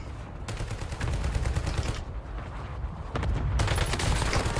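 Gunfire in the Warzone video game, dense rapid bursts of automatic fire crackling loudly and continuously, briefly easing mid-way before another sustained burst.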